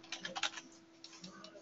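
Keys clattering on a computer keyboard in a quick burst of typing as a job search term is entered, quiet and close, with a brief pause before a few more taps.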